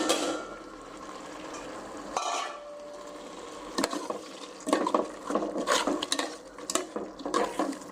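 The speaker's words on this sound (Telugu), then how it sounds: "బాగా తిప్పేసి కొంచెం సేపు అట్లా ఒక్క నిమిషం" Mushroom biryani masala is stirred in a pot, with a spoon scraping and knocking against the metal in quiet, irregular bursts over a faint sizzle, growing busier toward the end; no one speaks.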